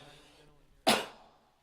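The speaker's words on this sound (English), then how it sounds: "somehow a cough found its way in there accidentally" A single short, sharp cough, accidentally captured in a music recording being played back, rises out of a quiet background, followed by a brief fading tail.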